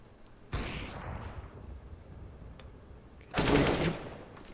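Two loud bursts of gunfire ring out in a Counter-Strike college playoff match between Ottawa and UC Irvine, one short early volley and a second heavier one near the end, with no talk over them.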